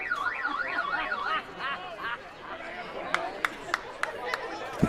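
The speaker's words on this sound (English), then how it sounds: "The fake car alarm sounder drawing some laps" A fake car alarm sounder at a Black Bears vs Sweets baseball game whoops in loud rising-and-falling sweeps, then trails off amid crowd chatter, followed by a few sharp claps or cracks near the end.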